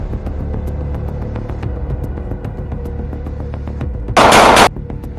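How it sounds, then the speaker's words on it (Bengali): Gunfire in a comic drama scene, a rapid series of sharp shots over a continuous low rumble, ending in a loud burst of noise. "না বরবাদ ভাই এভাবে গুলি করেন না"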